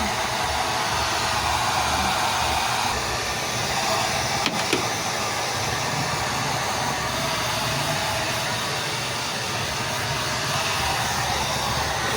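A blow dryer drying a pet's thick fur, a loud steady whooshing hiss running continuously throughout, close and unbroken, with no talk over it.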